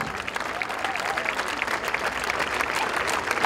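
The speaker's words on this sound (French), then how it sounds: "On peut les applaudir très très fort." Audience at the opening of the 2019 Traces Contemporaines contemporary dance festival applauds the dancers, with steady, dense clapping filling the room throughout.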